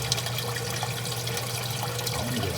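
A sump pump slurps up the last of the water like a straw, a continuous gurgling, sucking wash heard close and steady throughout.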